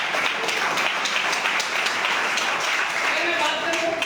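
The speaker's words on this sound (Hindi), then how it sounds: "एक बार इसके लिए तालियां हो जाए।" Crowd clapping at an Indian product training session, a steady, fairly loud wash of many hands applauding that fills the whole stretch without a break.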